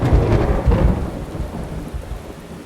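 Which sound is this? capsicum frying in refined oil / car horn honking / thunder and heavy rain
thunder and heavy rain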